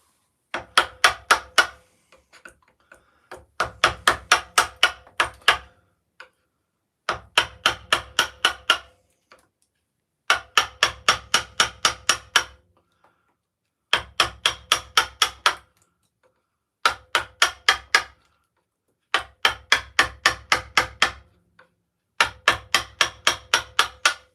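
Wood is carved with Flexcut chisels in quick groups of sharp, close taps, with six to nine strikes per burst and short pauses between bursts.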